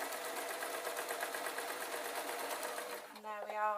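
Sewing machine sewing ribbons onto a fabric notice board, a fast steady mechanical whir for about three seconds before stopping, close by, with a brief voice at the end.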